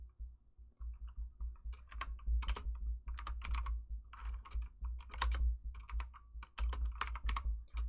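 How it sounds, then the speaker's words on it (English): Steady computer keyboard typing during a cozy live crochet session, with bursts of close, rapid key clicks interrupted by short pauses and no talking. "I'm trying to type this pattern though before I forget"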